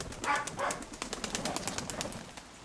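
Pigeons cooing nearby, soft throaty calls, with a light fluttering and rustling in the background.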